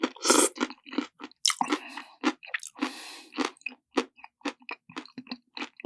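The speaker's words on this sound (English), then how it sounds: "The spaghetti sounds a little bit crunchy to me" AI-generated eating sounds of spaghetti being chewed, with loud, close, wet and crunchy bites and smacking in irregular bursts separated by short pauses, heard alone with no voices.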